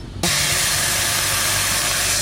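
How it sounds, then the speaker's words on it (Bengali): Water splashes into a hot wok just used for frying puti fish, setting off a sudden loud burst of steam that becomes a steady, roaring hiss and sizzle and continues to the end. "মাছ ভাজা হয়ে গেছে, এবার সেই কড়াইতে দিয়ে দেবো জল।"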